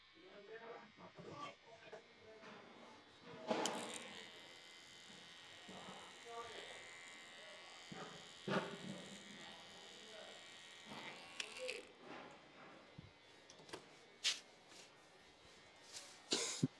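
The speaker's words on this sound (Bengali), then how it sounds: "1 ইঞ্চি কাটতে গেলে আরো নিচ থেকে মেশিং বসে দেবো, কারণ চুলগুলো যেন ঢুকতে পারে" An electric hair clipper buzzes in short bursts while cutting long hair close by, with quiet talking, a cough and faint handling noises in between.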